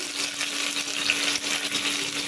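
Dry chilli, cumin, mustard seeds and curry leaves sizzle in hot oil, a dense, crackling fry heard up close, steady and continuous with no voices.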